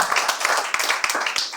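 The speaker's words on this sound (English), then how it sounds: "I believe he deserves a round of applause." An audience at a book launch claps in a round of applause, individual hand claps distinct and fairly close, a modest crowd rather than a roaring one.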